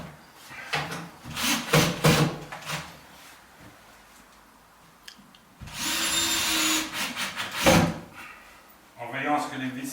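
A power screwdriver drives screws through plasterboard into a metal rail in short whirring bursts, with handling knocks and clatter between them, close by and under someone talking.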